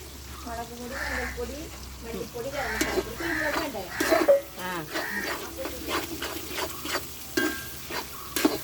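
Chilli and coriander powder sautéing in a pan, giving a soft sizzle with scraping stir strokes as a voice talks over much of it.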